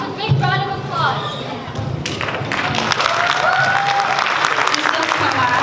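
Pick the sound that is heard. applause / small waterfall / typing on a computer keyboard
applause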